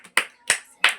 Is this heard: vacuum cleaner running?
no